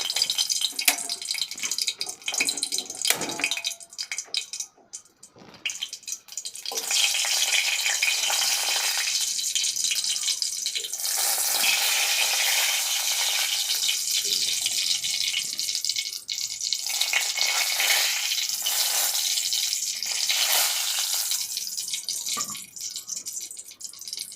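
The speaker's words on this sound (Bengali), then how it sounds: "আর এখন সেইখানে কয়েকটা শুকনো মরিচ দিয়ে দিব আর তারপর সেগুলো ভালোভাবে ভেজে নেব" Dried red chillies frying in hot oil in a wok give a loud, steady hiss that dips briefly around the fifth second, then holds as a dense, even sizzle.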